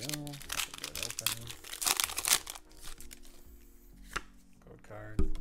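A Pokémon Shining Fates booster pack is torn open by hand, with loud close crinkling and ripping foil bursts, then quieter rustling and a final sharp crackle, while a voice talks over it.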